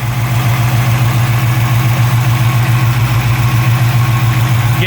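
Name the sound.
Chevy 350 engine idling during lifter adjustment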